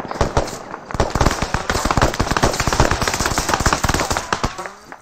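Dense, rapid bursts of automatic gunfire from enemies in ArmA 3, loud and close, with rattling volleys and overlapping shots sustained throughout.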